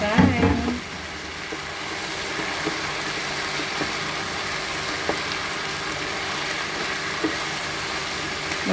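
Beans, carrot and potato frying Indian style in a pan, a soft continuous sizzle with a louder stir and clatter at the start, then occasional light taps of a utensil.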